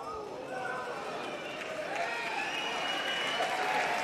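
A crowd applauds a pool shot at the Mosconi Cup, Team Europe versus Team USA, with steady clapping that swells slightly and holds, under a commentator's voice.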